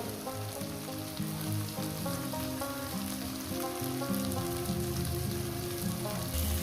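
Small goby fish frying with potato and onion in a pan, a steady loud sizzle running throughout with no talk, over a background of music.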